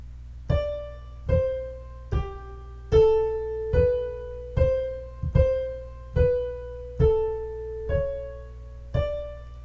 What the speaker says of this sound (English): I'm going to play just my counterpoint line for a second.